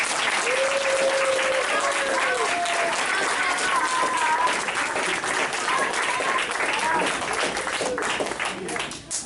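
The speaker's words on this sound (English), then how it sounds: "Please clap for them again." Sustained applause from a large audience at an adult education graduation ceremony, loud and dense throughout, with cheering voices and whoops rising above the clapping before it thins out near the end.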